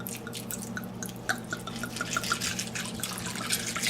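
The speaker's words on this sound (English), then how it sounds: "what I'm going to do now is put some filtered water on this" Filtered water trickles and drips onto soybeans in a container, with scattered splashy drops over a soft running flow, close and quiet.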